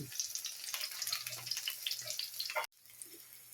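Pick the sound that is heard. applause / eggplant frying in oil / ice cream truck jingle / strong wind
eggplant frying in oil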